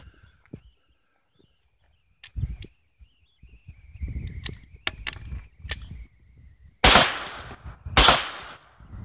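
A Ruger firearm is fired at an outdoor shooting range: scattered mechanical clicks and handling noises, then two loud, sharp reports close by, about a second apart.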